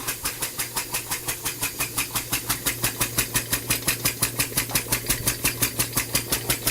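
A small two-stroke engine runs on compressed air at 20 psi, puffing in a fast, even rhythm of sharp exhaust pulses with a steady low hum beneath, close and unbroken throughout.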